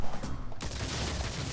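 A nitro crate explodes in Crash Bandicoot 2: Cortex Strikes Back during the N. Sane Trilogy boss fight against Ripper Roo, a sudden loud broadband burst that cuts in and stays dense and noisy.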